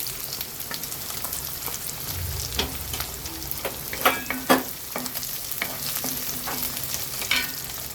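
Half a teaspoon of cumin, shallots and large onions sizzle steadily in a pan for pidikarunai kara kuzhambu, a constant close frying hiss broken by occasional stirring scrapes and pops, with no talking.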